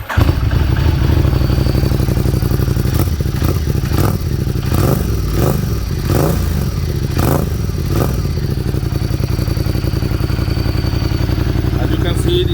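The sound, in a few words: Ducati XDiavel S 2016 motorcycle engine running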